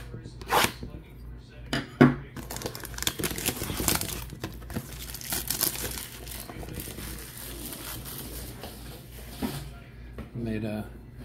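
Foil packs of 2024 Topps Series 2 trading cards are torn open, crinkling and ripping in bursts throughout, close to the mic with someone talking over the handling.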